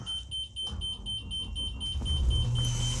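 A steady high-pitched dashboard warning tone in a 2022 Entegra Aspire 44B motorhome repeats in quick pulses over a low engine rumble that grows louder.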